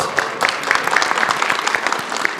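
Panel audience at a PAX East 2024 convention session claps in a steady, dense patter of many hands for a couple of seconds, fairly close and even in level.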